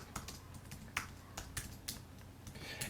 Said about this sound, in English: here I'm going to type in the name of the channel